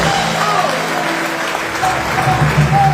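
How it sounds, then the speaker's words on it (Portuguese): A Pentecostal church congregation applauds together in steady, sustained clapping that fills the space, with voices mixed in underneath. "Dá um aplauso ao Senhor."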